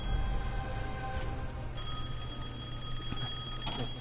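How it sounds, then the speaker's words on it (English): A payphone ringing in the Devil May Cry 5 video game, a sustained electronic bell tone that continues steadily with a brief change midway, moderately loud over a low background hum. "I can just answer a payphone."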